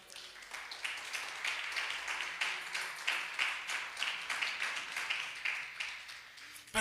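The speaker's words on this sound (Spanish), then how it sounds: "Dele un fuerte aplauso al Señor." A church congregation applauding together, a dense, steady patter of many hands clapping at moderate distance, sustained evenly for several seconds before ending abruptly.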